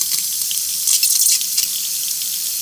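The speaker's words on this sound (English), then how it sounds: "Now I'm going to follow it up with a rinse to get it out of the traps and whatnot." Rinse water runs steadily through the drain traps of an RV during winterizing, a continuous hissing rush with small splashy surges, close and alone.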